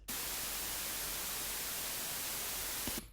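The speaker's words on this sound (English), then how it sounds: "it just sounds like white noise. It is white noise." Steady broadband white noise from a synthesizer, an even unbroken hiss that holds constant from start to finish and cuts off abruptly at the end.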